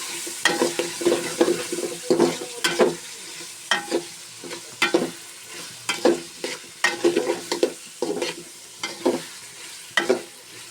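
Mixed vegetables such as carrot and cauliflower frying with spices in a pan for vegetable noodles, heard as repeated rhythmic spatula scrapes and clacks over a continuous close sizzle.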